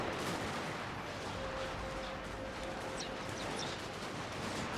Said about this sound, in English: Watch return fire